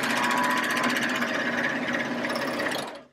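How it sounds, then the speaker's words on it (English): A serger sewing machine runs a seam on a fabric bowl cozy, its blade trimming the excess, giving a loud, fast, continuous mechanical buzz and chatter for about three seconds before winding down to silence. "And I start sewing along the seam."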